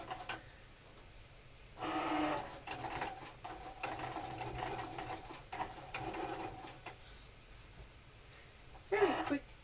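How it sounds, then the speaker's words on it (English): A Cricut cutting machine slices a sheet of felt on its mat, giving off a steady mechanical whirring and clicking of the carriage moving back and forth, fairly quiet with short pauses between passes. "And we press start. So I'll just take you back across to the machine."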